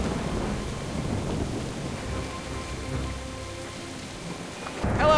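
Steady rain with rolling thunder during a storm evacuation in the video game Jurassic Park: The Game, a dense continuous downpour throughout with a louder rumble near the end.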